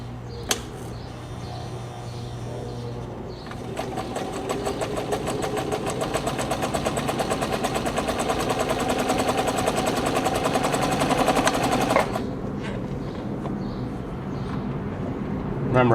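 A New Home 702 sewing machine running a maximum-width, narrow zigzag stitch, with a steady rapid mechanical rattle for about eight seconds that then stops, and quieter handling noises before and after.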